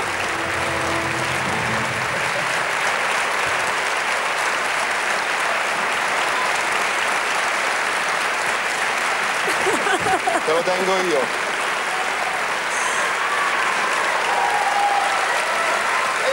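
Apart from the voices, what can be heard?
audience applause at David di Donatello award ceremony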